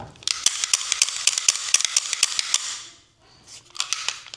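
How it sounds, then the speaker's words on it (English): Sharp metallic clicks and rattles of a P320 M18 pistol being reassembled, the slide pushed back on and locked into place; a rapid series of close, crisp snaps, a short pause, then a few more clicks. "slide it back in, get it locked in place"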